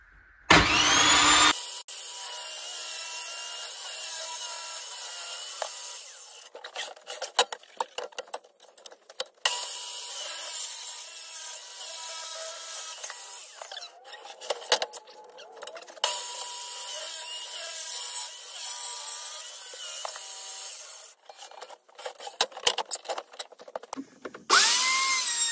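Power tools saw and sand pallet wood for a coffee table, whining and grinding in long bursts, stopping and restarting several times, with brief quiet gaps and clattering between runs.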